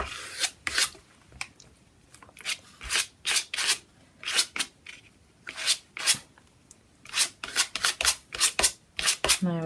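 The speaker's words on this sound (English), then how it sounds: "Let me just grab a credit card just to spread it" A credit card scrapes and rubs repeatedly across paper, spreading Mod Podge glue over an art journal page: a close, steady run of short rasping strokes in an irregular rhythm, with brief pauses between passes.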